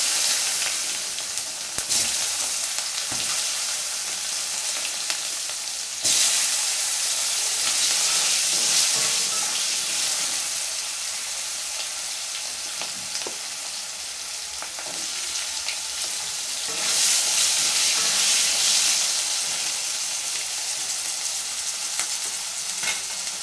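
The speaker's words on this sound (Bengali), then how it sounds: "এখন এই তেলে দিয়ে দিলাম কয়েকটা গোটা জিরে, এর মধ্যে দিয়ে দিচ্ছি আলু" Potato pieces and whole cumin seeds fry in hot oil for a Bengali fish curry, giving a steady close sizzle that swells and eases in waves.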